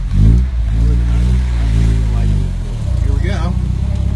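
A 1961 Triumph TR3B engine pulls steadily on a road test, its low harmonic drone rising and falling through a gear shift, loud and close with someone talking over it.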